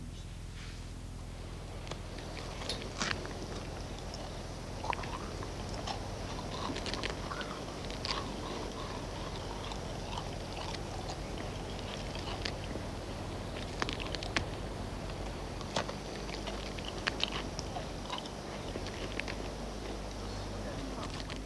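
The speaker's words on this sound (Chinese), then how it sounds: "熊猫的臼齿虽已演化来吃竹子，但也可以迅速嚼碎鹿骨" A giant panda chews and crunches deer bones, with steady close wet gnawing and scattered sharp cracks and snaps over a low background rumble, continuing for about twenty seconds.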